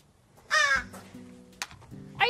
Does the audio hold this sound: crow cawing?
yes